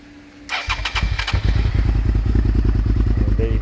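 A carbureted 2001 Suzuki SV650 motorcycle cranks with a clatter of the starter, then fires and settles into a loud, steady, pulsing idle close by.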